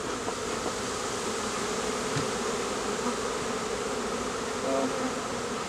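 Honey bees buzz steadily around a hive during a swarm rescue, a dense, continuous hum from many insects close by, with no one talking.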